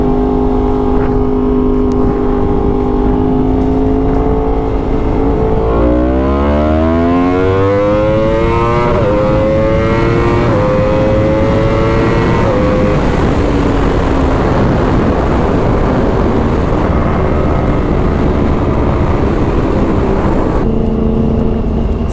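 A 2016 Yamaha R1 motorcycle accelerates hard, its engine note climbing through several rising sweeps as it pulls through the gears. The roar is loud and close throughout, with no talking.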